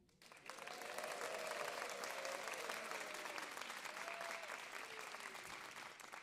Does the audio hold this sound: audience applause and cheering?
yes